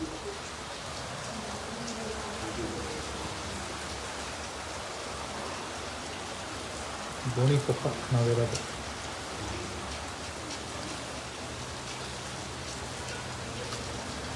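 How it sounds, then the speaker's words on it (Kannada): Steady rain falls heavily on surfaces around a balcony in Gonikoppa, a dense, even hiss throughout. A person speaks briefly midway. "ಬಾಲ್ಕನಿಯಿಂದ ಮಳೆ ನೋಡೋಣ"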